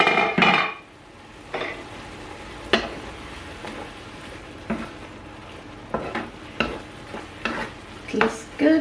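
Ground meat for Bolognese sauce frying in a pot, with a spoon stirring and scraping in a series of sharp, close clanks over a low background sizzle.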